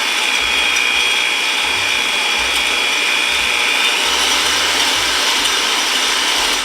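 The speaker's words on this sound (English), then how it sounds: "get our electric mixer, and now I have to mix it to a frosty consistency" An electric hand mixer beats egg whites to a frosty consistency for sugar cookie icing, giving a loud, steady mechanical whir with a faint rattling grind that runs unbroken throughout.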